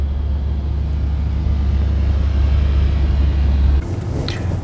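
Porsche Panamera S E-Hybrid cruising in hybrid mode at around 1,200 to 1,300 RPM gives a deep, steady low rumble heard from inside the cabin, with a slight shift near the end.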